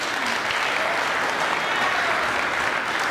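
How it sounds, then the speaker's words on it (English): An audience at a citizens' assembly claps in a steady, dense wash of applause heard from the room, continuous and even for the whole few seconds. "Please, let's give them a round of applause."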